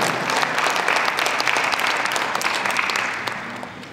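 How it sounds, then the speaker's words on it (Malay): Sustained, thunderous applause from an audience at a Kuala Lumpur city hall launch ceremony for a corporate school bus sticker programme, dense and steady throughout before easing slightly at the end. "apakah kita berikan tepukan yang paling gemuruh atas usaha ini"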